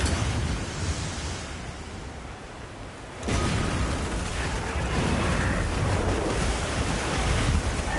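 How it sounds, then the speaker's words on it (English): Ocean surf in the Monster Hunter Wilds video game washes in with wind, a steady roar that dips and then surges louder around midway before rolling on continuously. "I know how to avoid the waves"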